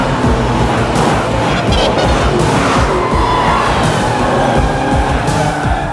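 Loud, close motorbike roaring down a road during a chase, a dense continuous engine rumble mixed with whooshing traffic and scattered thumps, steady and unbroken from start to end.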